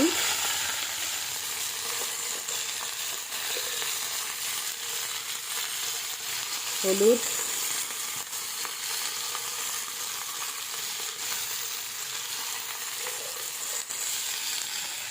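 Okra with salt and turmeric fries in a pan over a wood-fired stove, giving a steady, close sizzle throughout with a brief louder crackle midway.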